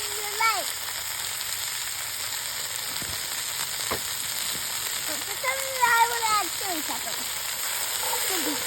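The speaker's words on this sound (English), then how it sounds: "the onions are cooking pretty good" Onions and garlic frying in a pot over a backyard firepit in winter, a steady broadband sizzle throughout with occasional stirring knocks and faint outdoor sounds mixed in.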